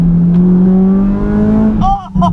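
A Phoenix Yellow Honda Civic EK9 Type R, modified, its engine revving loud and close with a steadily rising pitch, briefly dipping near the end, while a voice talks over it.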